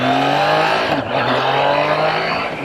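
Triumph Trident 660 inline-triple motorcycle pulling hard, its engine pitch sweeping steadily upward in a loud, close acceleration with no talking.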